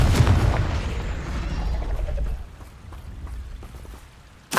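A Confringo blasting spell goes off in Hogwarts Legacy, a loud booming burst at the start that rumbles and fades over a few seconds, ending with a short sharp crack.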